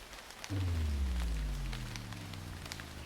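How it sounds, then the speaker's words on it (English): Rain falls steadily on leaves and ground as a faint, even patter. A low, gradually falling tone runs underneath it. "Rain lashed down, each drop a tiny hammer against the leaves and the ground"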